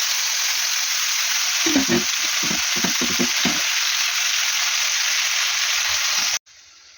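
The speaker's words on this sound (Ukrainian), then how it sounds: "Зараз я в жир буду кидати цибулю" Onion sizzles and crackles as it fries in fat for a meat-and-porridge oven dish, a loud dense hiss with brief spattering bursts before it cuts off abruptly near the end.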